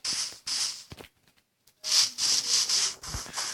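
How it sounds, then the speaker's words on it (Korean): Repeated scraping, chopping hits on trees in the video game Minecraft, coming in several close bursts with a short quiet gap partway through. "나무가 부족하니까 나무 캐고 오겠습니다."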